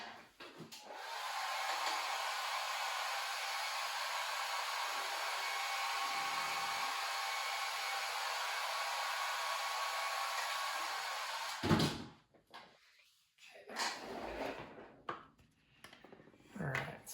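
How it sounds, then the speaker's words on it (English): A hairdryer blows steadily for about eleven seconds to dry white paint on a 1/48 scale Tamiya P-38 model, a loud continuous whoosh, then switches off and is followed by a few knocks and handling noises. "Let's hit this with a hairdryer real quick,"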